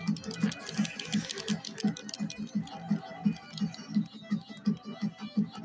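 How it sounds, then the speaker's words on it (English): Rapid mouse clicking while playing Friday Night Funkin' on a computer comes as an even, fast train of close taps about three per second, with game sounds and faint background noise beneath. "I'm spam clicking for no reason."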